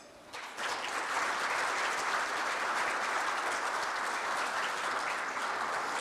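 Applause from a university forum audience welcoming the National Assembly Speaker, rising quickly after a moment of quiet into a steady, even roar of many hands that holds throughout, with no voices over it.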